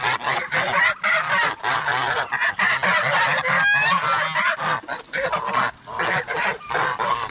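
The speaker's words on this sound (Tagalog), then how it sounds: "Marami na po tayong pato dito" Ducks and other waterfowl call loudly and repeatedly on a farm, a busy overlapping chorus of honks and quacks close by with no talking.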